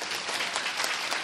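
Applause from a lecture audience greeting a guest speaker, PD Choi Seung-ho, at a Bunker1 talk event; dense, steady clapping fills the whole short stretch at moderate level with no voices.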